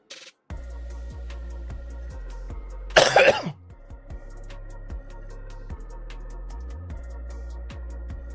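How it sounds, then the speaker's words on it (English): A man coughs up phlegm in a single loud, harsh burst over steady background hum, followed by quieter throat sounds as the noise settles. "See, I'm still coughing stuff up"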